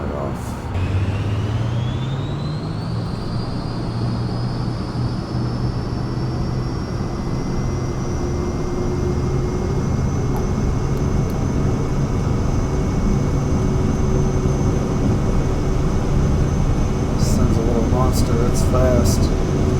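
A Cirrus Vision Jet in Microsoft Flight Simulator 2024 spools up for takeoff, a steady loud engine roar with a rising whine that levels into a sustained tone, with a few faint beeps near the end.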